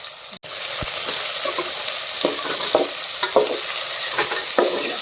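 Steady, close sizzling of brinjal frying in hot oil, broken by occasional scraping clicks of stirring.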